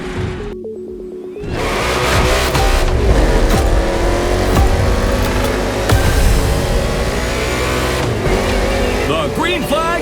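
Race cars roar off the line at a NASCAR urban race start in Hawaii in The Crew Motorfest, engines revving loud and continuous with tire noise, under a commentator's voice.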